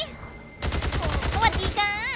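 Rapid machine gun fire in the video game Days Gone, a dense burst of evenly spaced shots lasting over a second after a quiet start, followed by a rising electronic tone, with a voice over the fire.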